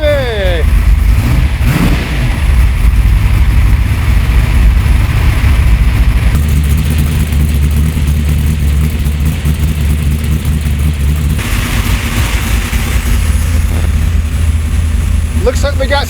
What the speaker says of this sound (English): Cold start, baby!